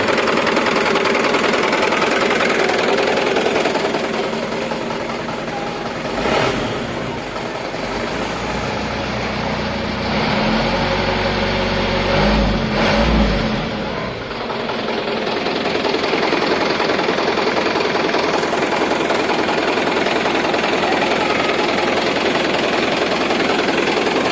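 A Mitsubishi Canter 125 PS truck's diesel engine idles steadily and loudly nearby, its rumble dipping and swelling briefly a couple of times, with no talking.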